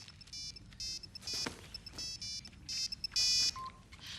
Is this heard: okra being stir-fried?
no